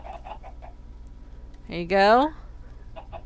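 A single short cluck from a chicken in the video game Minecraft rises over a low background hum, with a voice talking before it.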